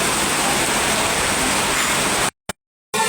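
Heavy rain pours in a loud, dense, steady hiss on a flooded, muddy road, then the sound cuts out abruptly near the end.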